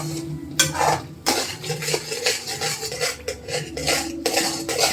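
Wheat flour sheera is stirred in a pan with a metal spoon, giving repeated close scraping strokes against the metal in a steady back-and-forth rhythm, loud and alone.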